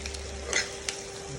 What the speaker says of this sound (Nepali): धनियाँ हालेपछि चलाउने, चलाएर एकछिन